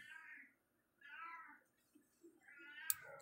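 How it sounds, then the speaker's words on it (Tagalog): An orange cat meows three times, drawn-out descending cries spaced about a second apart, close and clear against a quiet room, with a sharp click near the end. "Si Orange Cat ata ito nag-meow-meow"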